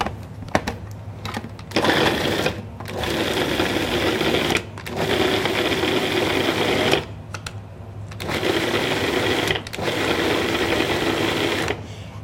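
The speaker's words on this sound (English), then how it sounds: "everything I've done so far is put everything in the processor and puree it" A food processor whirs in several pulsed bursts, separated by short pauses, as it purees basil, tomatoes and garlic for bruschetta. The motor drone is loud and close.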